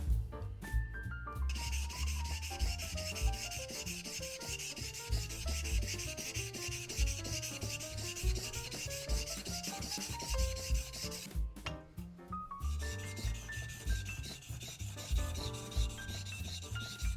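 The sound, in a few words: skiving knife sharpened on 3000 grit whetstone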